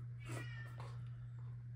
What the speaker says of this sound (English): I apologize if you can hear my cat